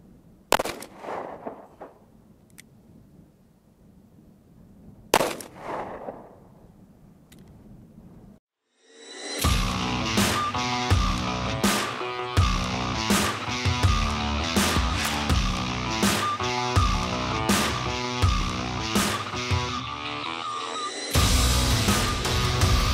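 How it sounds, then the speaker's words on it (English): Two sharp, isolated shots from a Smith & Wesson 638 Airweight .38 Special revolver firing Hornady 90-grain FTX Critical Defense rounds into ballistic gel at a range, spaced several seconds apart, before loud rhythmic music takes over. "We'll shoot it from a Smith Wesson 638 air weight into ballistic gel."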